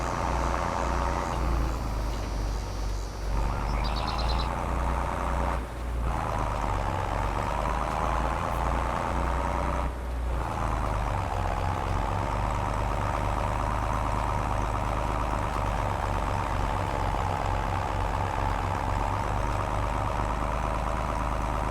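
A tractor engine in Farming Simulator 22 runs steadily at a constant drone for the whole stretch, with a few brief dips.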